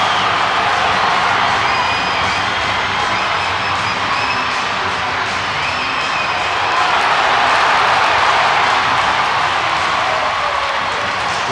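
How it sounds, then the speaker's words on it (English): An ice hockey crowd at a Sheffield Steelers versus Belfast Giants game gives a player a big ovation: a loud, continuous roar of cheering and clapping with occasional whistles, swelling slightly toward the end. "Huge ovation for Kevin Tanzi"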